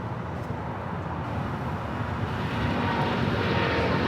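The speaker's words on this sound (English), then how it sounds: "we got Norse now rolling down at 25 right" A Norse Atlantic airliner begins its takeoff roll on runway 25 right at LAX, heading to Rome, producing a steady, building jet roar that grows slightly louder from a moderate distance.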